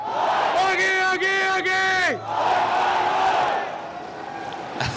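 Crowd at a recurve men's archery bronze final roars and whoops in a burst of cheering, loud and close, with shouted voices rising over the din before it eases back into general noise.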